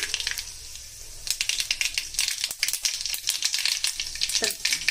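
Mustard seeds crackle and pop in hot oil in a kadhai while idli is being tempered, with a steady close sizzle and dense bursts of sharp crackles that grow busier halfway through.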